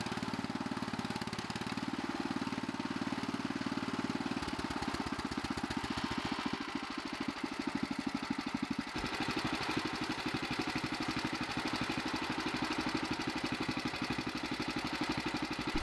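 A 1961 Bolens Ride-a-matic garden tractor engine idles close by, a steady, continuous chugging throb that runs the whole time with slight shifts in tone and no talking.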